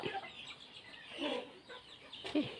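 A newly caged pet songbird named Lucky, kept at home for training, gives several short, close, raspy calls in an uneven sequence, with no voices over them.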